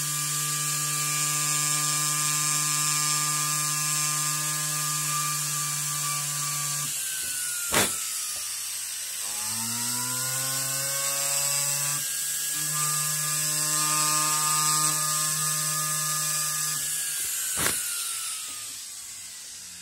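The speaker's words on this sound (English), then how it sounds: "take a ball burr and grind into the end of" A rotary tool with a ball burr grinds into the end of an engraving graver handle, a steady high whine with shifting pitch that dips and recovers as it bites, nearby and continuous, with two brief sharp clicks.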